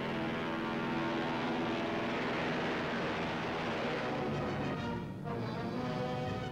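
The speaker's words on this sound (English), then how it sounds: "Horsepower takes the giant plane smoothly to the air." Hawaii Mars, a giant 1945 propeller flying boat over 120 feet long and 72 tons, takes off with a loud, steady roar of its multiple engines that holds throughout, briefly dipping near the end.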